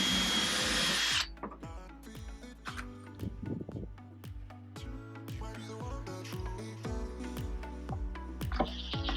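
A power drill drives screws into an SUV camper build platform in repeated short bursts, with sharp clicks and clatter between runs, close and fairly loud.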